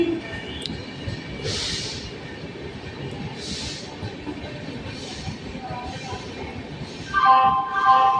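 A Tatanagar–Ernakulam express train rolls into Balangir Junction in India with a low rumble, brief hissing bursts, and a squeal of wheels braking near the end.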